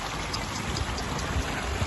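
Floodwater rushes heavily and continuously like a waterfall, a dense roaring wash with no voices, brief and steady throughout.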